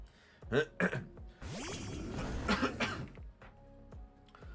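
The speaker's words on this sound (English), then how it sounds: "Little cough." A short, close cough from a man, one or two quick bursts followed by a brief rough throat noise, loud against a quiet room.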